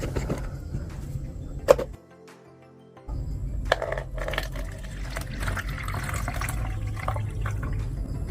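Coca-Cola mixed with cigarettes poured through a strainer into a container, a quiet trickle and drip of liquid with a brief pause midway, faint clinks, no voices.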